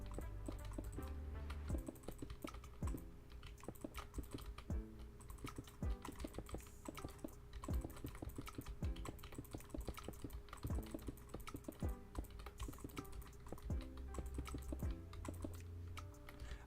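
A computer keyboard clattering during Minecraft play, with rapid irregular keystrokes and occasional heavier presses continuing steadily for the whole stretch, close but quiet with no talking.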